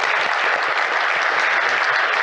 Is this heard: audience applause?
yes